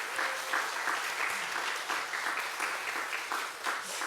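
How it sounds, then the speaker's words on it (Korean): A church congregation at an afternoon worship service claps steadily for the church's young adults, a dense, even patter of many hands that carries on throughout without a pause. "우리 청년들 위해서 박수 한 번만 하도록 하겠습니다"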